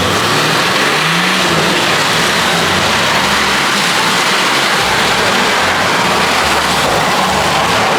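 A 4.2 litre diesel engine in an off-road vehicle revs hard and continuously, loud and close, with a deep rumbling drone and no speech over it.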